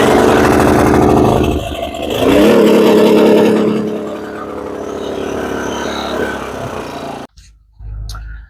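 A generator engine fires up after the choke is set and runs loudly with a steady rumbling drone for several seconds, then cuts out abruptly before a brief muffled handling sound.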